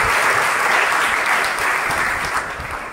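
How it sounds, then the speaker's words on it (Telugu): A church congregation clapping loudly in praise, a dense, sustained wash of many hands beating together close and strong, fading slightly toward the end with no voices over it. "అందరూ గట్టిగా చప్పట్లు కొడుతూ యేసుని స్తుతించుదాం."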